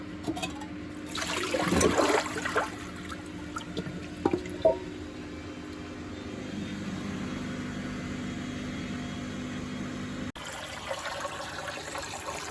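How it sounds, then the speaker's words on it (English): Rinse water pours and splashes steadily as it drains from a Bosch WFF1800 washing machine on a 90 cotton cycle, with drips and a gurgling flow running continuously beneath a low mechanical hum. "So this is the final rinse water coming out cold."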